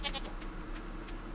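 Goats on a farm in the video game Stardew Valley bleat in short repeated calls at the start and through the clip, over a low steady background hum.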